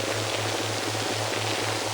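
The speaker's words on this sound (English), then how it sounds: "what is playing right now is one of the binaural beating tones" A steady low binaural beating tone for relaxation sound design pulses rhythmically beneath a dense, even hiss like rain, continuous and fairly loud throughout.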